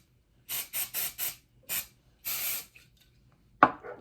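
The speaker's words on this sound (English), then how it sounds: "and then finish it off with the hairspray" Hairspray is misted onto styled braided hair in short hissing bursts, four quick sprays in a row, then a single spray and one longer one, close and clear, followed by a small sharp knock.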